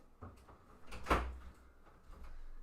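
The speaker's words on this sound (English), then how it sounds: "hold on, let me close the door" An indoor door swings shut with a single soft thud near the middle, fairly faint against a quiet room background, with no talk.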